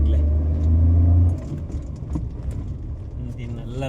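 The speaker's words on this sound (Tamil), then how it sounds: "வண்டி இழுக்கலைங்க. வண்டியே இழுக்கலைங்க. சரியான மேடு நேயர்களே." A vehicle engine labors up a steep slope, a loud low rumble that drops after a second into an uneven straining growl, while someone talks over it.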